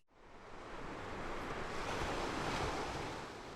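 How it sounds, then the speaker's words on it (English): Stormy sea waves surge and roar in a continuous broad wash that swells louder through the middle, with wind noise mixed in and no voices. "far out at sea, a terrible storm overturned the ship"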